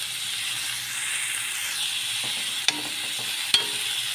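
Onions with a little salt sautéing in a pan for a chicken dish with cumin and fenugreek, a steady close sizzle with scraping stir strokes and two sharp utensil knocks near the end.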